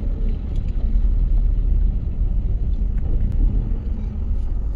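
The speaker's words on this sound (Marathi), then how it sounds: "इतक्या मोठ्या प्रवासामध्ये आम्हाला पहिल्यांदा ही ट्रॅफिक लागलेली आहे." Highway traffic jam with large trucks and buses on a road trip toward Indore, heard as a dense, continuous low engine rumble that stays loud and steady throughout, with no voices.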